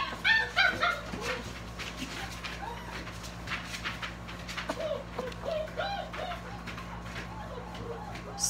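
A puppy whimpers and yips in short, high cries, close by, with brief bursts scattered over a low background hum.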